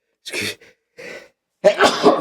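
A person sneezes: a short preliminary catch of breath, then a louder explosive burst at the end, close and dry.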